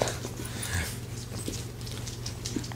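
A spaniel and a Morkie scuffle nearby, with dog whimpers, panting and quick scrabbling paws in a short, restless burst.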